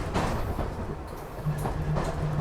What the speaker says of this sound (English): Here's the interior of the tram